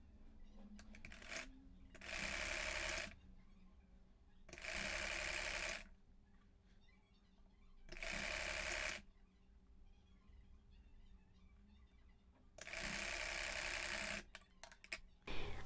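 Sewing machine stitching layers of frock fabric together, running in four separate bursts of roughly a second or two each with quiet pauses between, close and fairly loud.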